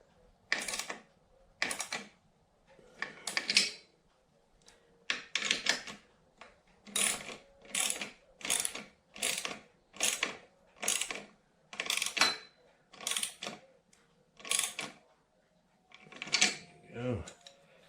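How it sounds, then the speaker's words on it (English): A 13mm ratchet tightens a stabilizer bar bolt on a Stamina cardio exercise bike: rapid bursts of close, crisp ratcheting clicks repeating in regular strokes with short pauses between, loud and clear, with a brief voice near the end. "take your ratchet, 13mm, and tighten it down"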